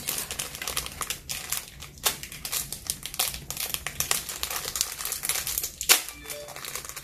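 Pokemon Celebrations Elite Trainer Box card packs being torn open, their foil wrappers crinkling and crackling in a steady, close, busy stream of small rustles with a sharper tear near the end, no talk.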